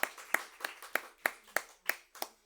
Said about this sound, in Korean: 우리 박수로 하나님께 영광을 돌리겠습니다.